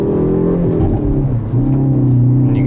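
A 2022 Hyundai Veloster N's engine revs loud and close, its tone climbing and dropping through a few short rises with steady harmonic growl, no voices.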